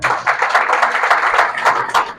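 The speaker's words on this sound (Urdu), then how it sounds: "بجاؤ پھر تالیاں" A church congregation claps together during a Pakistani sermon, a loud and fairly steady run of overlapping hand claps that lasts the whole moment.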